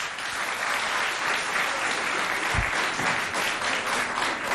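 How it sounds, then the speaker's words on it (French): Applause from a school audience at a Chadian high school event in Sarh, a dense, steady wash of many hands clapping that fills the whole stretch at even loudness, with a brief low thump midway. "qu'on applaudit bien fort"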